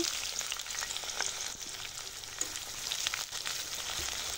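Chopped onions fry in oil with whole spices such as small cardamom for a spicy chicken dish, giving a steady, dense sizzle with occasional scraping stirs, close and continuous with no talk.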